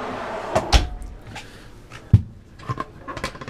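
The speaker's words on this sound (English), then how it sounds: "Slide out pantry here." A slide-out pantry drawer in a 2016 Airstream Flying Cloud 23D travel trailer rattles open and bumps shut in a few sharp knocks and clatters, close and with no talking.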